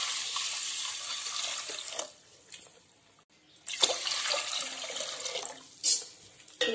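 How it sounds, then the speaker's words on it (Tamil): Water is poured into a pressure cooker holding gram (lentil beans), a steady broadband splashing stream that pauses briefly midway, then resumes with a few sharper surges. "இப்போ நம்ம தேவையான அளவு இதுக்கு தண்ணி ஊற்றிக்கலாம்."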